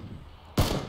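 A single loud, close gunshot from the shooter game PlayerUnknown's Battlegrounds, breaking suddenly out of a quiet low background and ringing off briefly.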